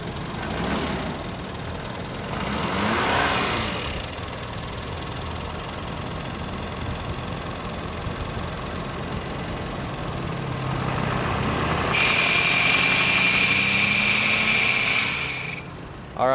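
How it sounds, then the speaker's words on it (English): A truck engine with a failing pump is started and runs, a steady mechanical rumble with a rising whine, then a loud high-pitched hiss joins for several seconds near the end before cutting off. "So I'll fire it up here,"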